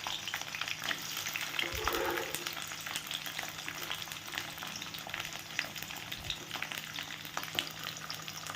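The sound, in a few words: green capsicum frying in white oil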